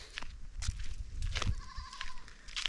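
Goats in an African village bleat close by, several short nasal calls overlapping against a busy outdoor background with no speech.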